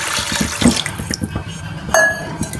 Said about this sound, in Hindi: हम 1 गिलास पानी डाल देंगे।